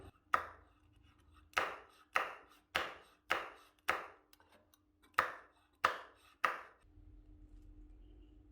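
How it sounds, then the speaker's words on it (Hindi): A knife chops green chili on a board in about ten crisp, evenly spaced strikes that are close and clear against a quiet background. "ग्रीन चिली को भी चॉप कर लेंगे।"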